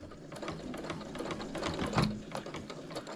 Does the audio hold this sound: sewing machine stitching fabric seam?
yes